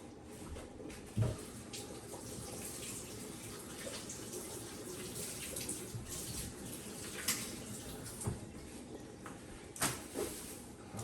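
Kitchen tap water runs steadily over cabbage being rinsed for a vegetable stock, a soft, continuous hiss at low volume broken by a few brief knocks and splashes, with no voices.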